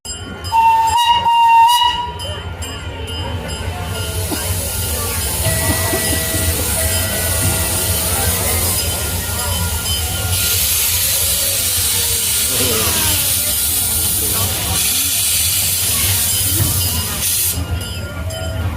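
A steam locomotive on a Christmas train ride at McCormick-Stillman blasts a short whistle, then hisses and chuffs steadily nearby, with broad bursts of escaping steam rising and falling throughout.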